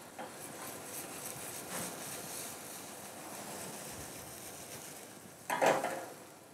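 Onion sweating in melted butter in a pan gives a soft, steady sizzle throughout, with a brief louder clatter of cookware near the end.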